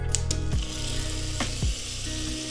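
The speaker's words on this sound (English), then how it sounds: "I'm just going to use this oil that remained after I fried the bacon, and to that I'm going to add some butter" Butter melting and sizzling in a pan of leftover bacon fat, a steady close crackle with a few clinking metallic knocks over it.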